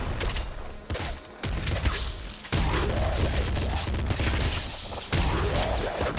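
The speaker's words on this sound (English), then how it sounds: "bigger corpse explosions" Chaotic video game combat with repeated corpse explosions, dense booming bursts and crackling blasts layered over continuous loud action noise, with abrupt surges in intensity throughout.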